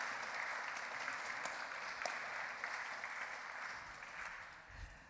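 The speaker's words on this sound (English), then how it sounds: "applause, thank you." Audience applause at a transitional justice conference, a steady wash of many hands clapping at moderate volume that carries on through and tapers slightly near the end.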